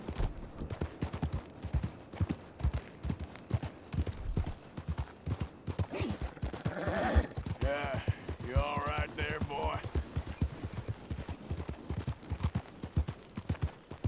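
Horse hooves clip-clop on the streets of Saint Denis in Red Dead Redemption 2, a steady, fairly close rhythmic trotting that runs throughout, with brief voice-like sounds in the middle.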